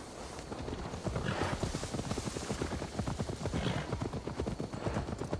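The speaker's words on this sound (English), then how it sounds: "Now to deliver Magni his horse." Horse hooves clip-clop in a steady, close rhythm through the whole stretch in the Assassin's Creed Valhalla video game, with no talking over them.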